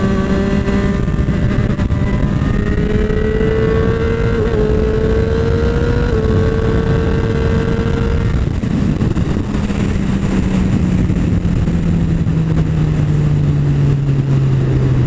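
A Triumph Street Triple 765 RS motorcycle's engine hums and revs steadily, its tone rising in pitch over several seconds, then dropping into a lower sustained drone, loud and close throughout, with no talk.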